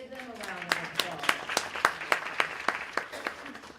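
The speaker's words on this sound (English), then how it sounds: "Give them a round of applause." At a lecture, a handful of audience members clap for the faculty in a sparse, fairly slow rhythm of distinct claps, with a voice speaking at the start.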